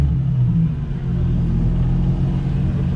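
A Nissan 350z engine runs with a loud, steady low rumble for a few seconds, the tone holding fairly even rather than climbing through a rev.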